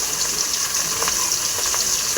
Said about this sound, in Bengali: মাছগুলো আমার ভাজা হোক